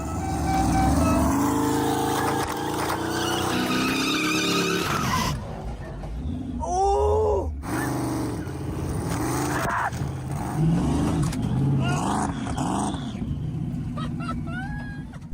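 A car revs and drives hard, launched from a giant slingshot, with tires squealing and skidding, engine loud and close, voices shouting over the noise at times.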